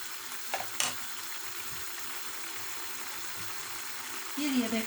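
Menemen, Turkish eggs with tomato, being stirred as it fries in a pan, with a steady soft sizzle under a few clinks and scrapes of the spoon and a short louder scrape near the end.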